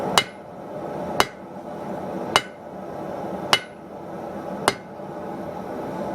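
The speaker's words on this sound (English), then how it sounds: "I'm switching over to a bigger hammer so I can move more material all the time." Five sharp, ringing strikes of a large forging hammer on hot metal for a blade land at an even, unhurried pace, each a bright clang over a low background rumble.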